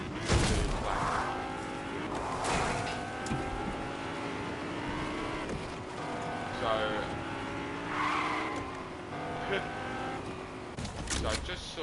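A vehicle in Fortnite drives along with a steady engine drone, tires squealing and skidding in several bursts over the stretch while a voice talks over it.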